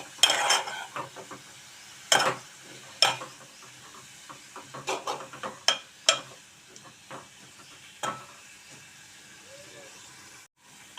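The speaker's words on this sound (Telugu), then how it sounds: "ఈ కొత్తిమీర అయితే చక్కగా వేగిందండి" Coriander leaves fry in a pan, with a soft steady sizzle under sharp, irregular clinks and scrapes of a utensil stirring against the pan, heard up close with no talking.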